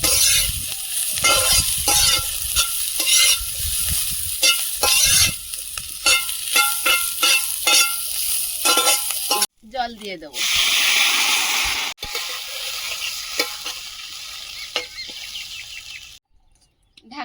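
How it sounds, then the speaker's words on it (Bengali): Cumin powder stirred and fried in a pan of curry with thankuni leaves, a steady sizzle and spoon scraping with quieter gaps, close and fairly loud, a bird calling faintly outside. "একটুখানি জিরে গুঁড়ো দিয়ে দেবো একটু নেড়ে ফেড়ে জল দিয়ে দেবো"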